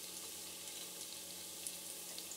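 Steady crackling sizzle of chital fish balls deep-frying in hot oil, continuous and fairly quiet throughout with no voices.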